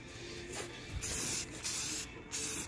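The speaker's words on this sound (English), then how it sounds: "Never want to really start off the blast of paint." Spray paint hissing from an aerosol can in short sweeping bursts, close and loud, while blacking out parts from the front end of a 2009 Chevy Silverado.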